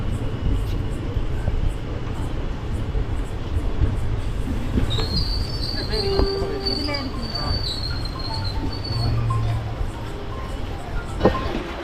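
The Yercaud Express passenger train rolls steadily on its rails at night, a continuous close rumble of wheels with intermittent high squeals and faint voices in the carriage.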